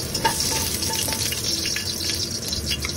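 Ginger sizzles and crackles in hot cooking oil at the start of a chicken curry, a steady close-up frying hiss with small stirring scrapes throughout.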